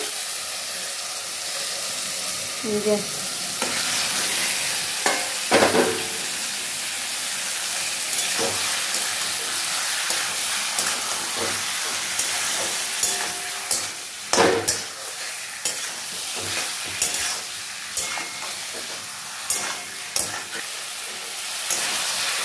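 Chicken and mushroom masala stir-frying in a pan with ground chilli, cumin and coriander paste, a steady loud sizzle and hiss broken by repeated scraping stirs of the spatula, close up and with no talking.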